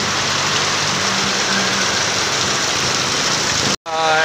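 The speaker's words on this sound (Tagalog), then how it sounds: "Wow, lakas ang ulan." Heavy, sudden rain pours down outdoors in the Philippines in a steady dense hiss, with a faint engine rumble underneath, before cutting off abruptly near the end.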